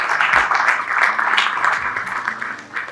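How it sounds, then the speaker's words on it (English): An audience at an Afritech tech event applauds the sponsors, a dense, continuous crowd of clapping hands swelling slightly and then thinning toward the end. "Please let's start off by giving a resounding round of applause to all our sponsors for today."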